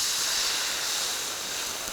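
A steady, loud hiss of red wine sizzling in a hot pan used for steak and shallots, continuous and even throughout with no pauses.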